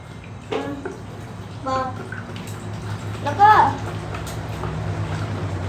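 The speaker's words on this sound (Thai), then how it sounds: "เราจะใช้สบู่นะคะ ลงไปในน้ำแล้วก็ตีให้มันเป็นฟอง" Soapy bathwater churned by hand into foam, a soft sloshing and splashing that runs throughout, with voices heard over it in short bursts.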